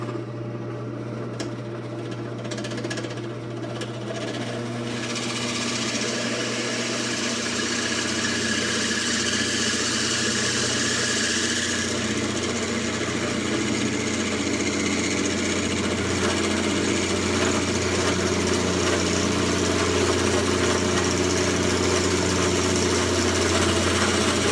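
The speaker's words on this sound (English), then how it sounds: "So I'm going to go ahead and drill it out." A power drill runs continuously with a steady mechanical whine and hum that rises slightly in pitch as it drills out a Hornady cartridge case.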